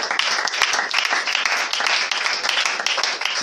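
A church congregation breaks into loud, dense applause, many hands clapping at once close by, sustained throughout without pause.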